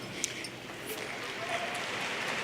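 Commencement ceremony audience applauding, a steady moderate wash of clapping from a large hall crowd that continues throughout.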